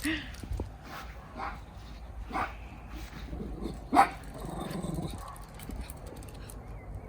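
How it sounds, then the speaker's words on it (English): A dog barks and yips several times at close range, with a sharp louder bark partway through, amid faint background noise. "Why are you barking?"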